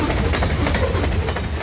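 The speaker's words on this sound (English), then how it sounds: "The train wheels passing over the joints gives riders that classic clickety-clack sound." A 1997 juice train rolls over jointed rail at about 50 miles per hour, a loud continuous rumble close by with faint rhythmic clicks from the wheels striking the rail joints.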